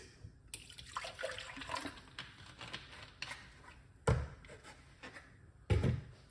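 Water splashing and swishing inside a smoothie container in a kitchen, with soft running water and light clinks, then two sharper knocks of the container near the end.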